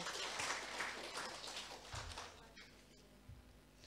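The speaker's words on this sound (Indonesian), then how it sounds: "Kita beri aplaus untuk mama kita bertiga sekali lagi." Applause for three newly installed WKRI leaders at an installation ceremony in Ende, a crowd clapping fairly quietly and steadily before it thins out, with some voices in the room.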